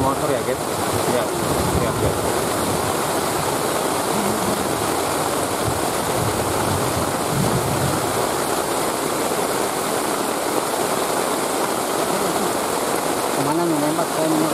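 Heavy rain pouring steadily on a motorbike ride, a loud, continuous hiss of downpour throughout, with faint engine and traffic underneath and a few brief vocal sounds near the end.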